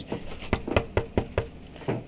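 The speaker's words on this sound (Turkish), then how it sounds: "Kapı çalar." Knuckles rap on a door in a quick run of about eight sharp, close knocks, then a final separate knock, with no voices.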